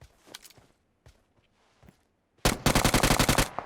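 Automatic gunfire in the PUBG Mobile battle royale game, a loud rapid burst of about a dozen close shots after a few faint earlier pops and footsteps.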